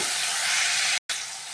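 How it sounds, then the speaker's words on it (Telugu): Small fish frying in hot oil with turmeric and salt over full flame, a steady loud sizzle and hiss close by with a brief gap partway through, no voices. "ఈ చేపని ఇందులో వేసేసి మంచిగా ఫ్రై అవ్వనివ్వాలండి"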